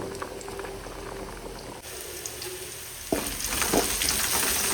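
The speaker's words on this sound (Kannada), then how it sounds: "ಈ ಕಡೆ ನೋಡಿ ಚೆನ್ನಾಗಿ ಕುದೀತಾ ಇದೆ ಅಕ್ಕಿ." Rice boils in a pot at home, a close, continuous bubbling with a brief clatter partway through, after which the boiling grows louder and more vigorous.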